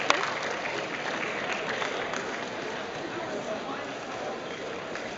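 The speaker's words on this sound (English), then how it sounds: "Let's have one more round of applause for our 3x3x3 Rubik's Cube champion." A crowd claps steadily for the 3x3x3 champion at the Rubik's Cube World Championships, dense sustained applause filling the hall without pause.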